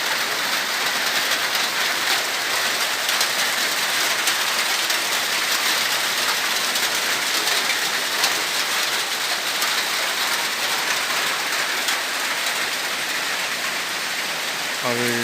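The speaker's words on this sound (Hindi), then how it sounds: "तो अभी तो है, देख लो, हम लोग देख सकते हैं हम लोग का गाँव में बारिश का मौसम।" Heavy monsoon rain pours steadily over a village, a dense, continuous hiss of drops on surfaces holding at the same level for the whole stretch, close and unbroken, with no voices.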